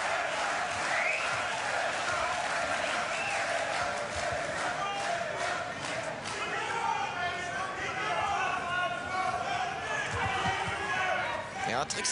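Crowd at a professional boxing match between Enad Licina and Steve Cunningham roars and cheers steadily, urging a fighter forward, a dense arena din running throughout under a commentator speaking.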